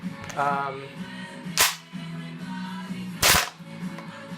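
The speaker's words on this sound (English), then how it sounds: "I don't know why it's firing double shots like that." A WE XM177 gas blowback airsoft rifle fitted with a real steel spring and buffer fires two sharp, loud cracks about a second and a half apart, with quiet handling noise between them.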